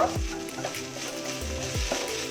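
Sliced banana stem frying in a pan after sugar is added, giving a continuous close sizzle with a few soft stirring scrapes.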